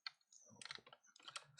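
Quiet, close keyboard typing as a prompt is entered into ChatGPT on a computer, a few quick clusters of soft key clicks with brief pauses between them.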